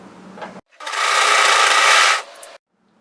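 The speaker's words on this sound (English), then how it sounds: "fold it in half and serge those short ends together" Serger overlocker stitching the folded short ends of a sweatshirt neckband, one steady whirring run of about two seconds, close and loud, with a faint rustle of fabric before it and a small click at the end.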